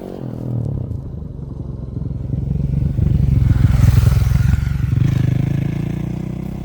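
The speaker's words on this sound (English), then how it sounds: "Oh my God, there's a moped coming." A moped rides past on a German village road in the countryside, its small engine buzzing and clattering as it approaches, peaking loudly close by, then holding as it moves on.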